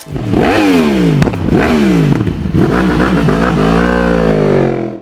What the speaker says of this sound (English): The crossplane crankshaft also produces a distinctive exhaust note, a loud, throaty growl